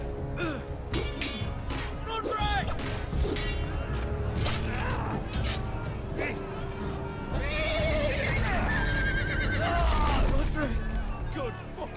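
Horses neighing and whinnying repeatedly in a Game of Thrones video game, with hoof clip-clops and someone talking over the noise.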